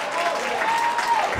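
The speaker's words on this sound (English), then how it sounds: "let's give him a round of applause" Audience applause at a campus event fills the space steadily, a dense wash of clapping under a faint sustained tone, with no break over its short span.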